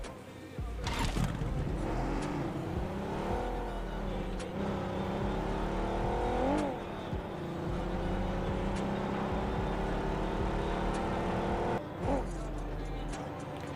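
Car engine in a mobile battle royale shooter game, revving and pulling away with rising and falling pitch over about fourteen seconds, fairly loud and steady, with a couple of sharp knocks along the way.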